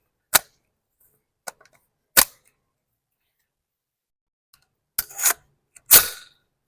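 A Battle Arms Xiphos 9 PDW SBR rifle fires five or six sharp, loud shots at uneven intervals, each a hard crack with a brief tail and quiet gaps between.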